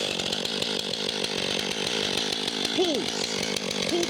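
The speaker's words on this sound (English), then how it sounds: "Jeff is trying out a new chainsaw" A new chainsaw cutting through a big piece of birch wood, its engine buzzing loud and continuous close by with a steady whine, while a voice briefly speaks over it.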